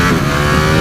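A 2018 Ducati Panigale V4S superbike engine running at speed, a loud continuous roar with wind rush, very brief and close.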